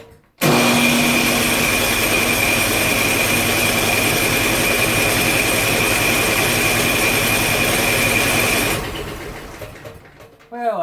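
Loud, steady mechanical whirring from a snow blower engine being cranked with the choke on, running continuously for about eight seconds before winding down, then a brief rattle near the end.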